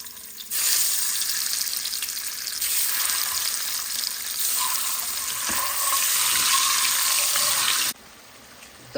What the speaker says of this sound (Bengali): তো ডিম ভুনার জন্য ডিমগুলোকে একটু ভেজে নিচ্ছে।